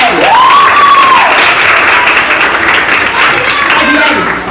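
A studio audience on a Brazilian variety program bursts into loud, sustained applause for a girl named Adriele. Dense, continuous clapping and cheering fill the whole stretch, with a voice or whistle-like tone riding over it.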